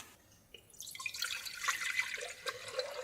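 Rosewater toner poured into a sanitized beaker, a trickling, splashing stream of liquid that builds in pitch as the container fills, close and fairly quiet with no talk.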